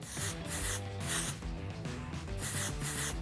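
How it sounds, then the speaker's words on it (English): Short hissing bursts of dry thickening spray misted onto a bob haircut, three separate sprays in quick succession over steady background music. "I am going to spray this a little bit of kind of a dry thickening spray on it"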